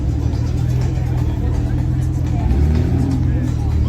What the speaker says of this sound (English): there's a Supra leaving